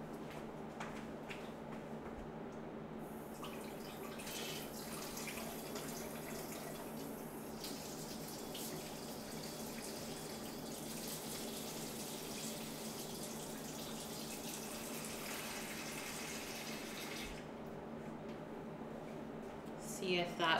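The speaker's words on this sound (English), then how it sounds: "I'm just going to pour it in some nice cold water" Cold tap water runs steadily and close by, poured in to revive a batch of flour dough, a continuous gushing hiss lasting the whole stretch with a short pause near the start and end, faint talk underneath.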